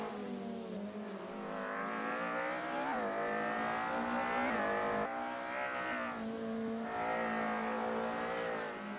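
A race car at a Race of Champions circuit drives on the track, the engine note rising and falling steadily through gear changes and revs for several seconds, loud and continuous, with no talking.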